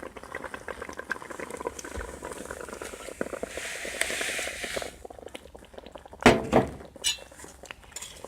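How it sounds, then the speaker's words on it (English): Orange jam with sugar simmers and bubbles in a pot, a soft steady boil under light clinks of a spoon, with a few sharper knocks and scrapes near the end. "I've been gently stirring it, brought it to a boil."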